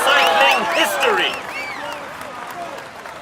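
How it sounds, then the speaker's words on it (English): A crowd applauds the Tour de France winner at the final stage, loud clapping mixed with whistles and cheers that fade gradually over a few seconds. "We applaud him loudly."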